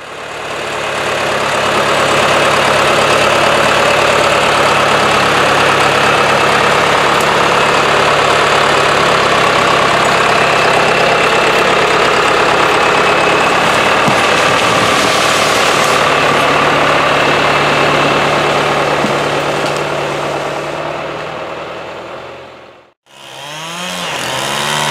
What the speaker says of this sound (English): Let me go get the tractor and see if I can get it off of there.